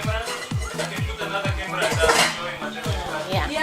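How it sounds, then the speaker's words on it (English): A kitchen knife slices through an eggplant on a cutting board while an Indian curry is prepared, giving steady rhythmic strokes about twice a second with faint clatter of dishes and utensils. "now I'm going to be cutting the eggplant"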